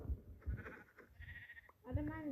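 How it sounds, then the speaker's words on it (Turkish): A sheep bleats once, a short wavering cry near the end, following a few soft thuds and clatter in a game scene; a person speaks briefly just before it. "Koyun."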